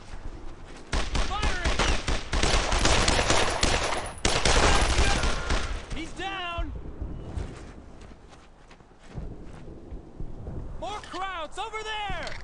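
Rapid bursts of automatic rifle and machine-gun fire in a World War II squad-combat game, loud and dense at first, then sporadic shots under shouted soldier voices and explosions.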